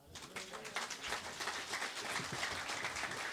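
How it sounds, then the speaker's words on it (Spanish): Church congregation in the Andes applauding for Jesus Christ during a Quechua sermon at a festival, a sustained, fairly faint wash of many hands clapping together. "¿Cuántos dan palmas a Jesucristo?"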